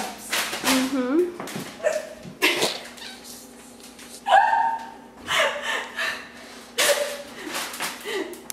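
A person hiccups repeatedly, with sharp, irregular gulping catches between stretches of talk and murmuring, some of them sounding squeaky and sneeze-like.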